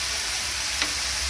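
Onions frying in a pan, a steady close hiss of sizzling oil with one brief stir partway through, no voices.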